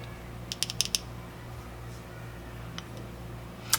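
The button on an Aegis Max vape mod is pressed in a quick run of three or four small clicks, then a couple of single clicks, faint and close against a low steady hum.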